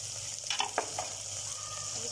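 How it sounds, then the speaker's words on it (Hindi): Ginger garlic paste frying with onion and tomato in a pan for fish curry, a steady hiss of sizzling oil with a few quick stirring scrapes near the start, close and moderately quiet. "फ्रेंड्स, हमारा मसाला भुन रहा है, उसमें हमने अभी मसाले ऐड नहीं कर रहे हैं, यानी कि प्याज टमाटर वगैरह भुन रहे हैं।"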